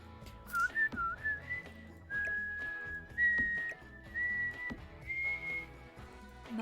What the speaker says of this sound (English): I'm not very good at whistling, but I'd like to be better.